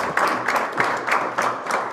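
Audience applause at an African Leadership Centre presentation, a steady wash of clapping with faint rhythmic swells, fairly close and continuous.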